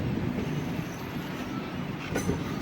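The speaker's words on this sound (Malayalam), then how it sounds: "ഒരു സ്റ്റേഷൻ്റെ അടുത്തോട്ട് കയറുന്നുണ്ട് നമ്മുടെ ട്രെയിൻ" Superfast Intercity Express train rolling slowly toward a station, a steady broadband rumble of wheels on track with a faint squeal of wheels near the end.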